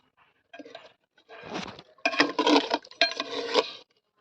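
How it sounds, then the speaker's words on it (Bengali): A mutton curry being stirred in a pot over village-style cooking, with bursts of metal-on-pot scraping and clinking in several short passes, close and fairly loud, no talking. "এটাকে আমি এবার নেড়ে দিচ্ছি।"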